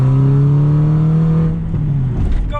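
A stage 2 Audi TTS running on ethanol with stock intake and a decat exhaust revs hard, its loud engine tone holding steady and then dropping as the revs fall away.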